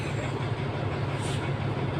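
Kiha 183 diesel train on a test run toward Lopburi, heard as a steady, loud rumble of rolling stock and engine passing close by, with no voices.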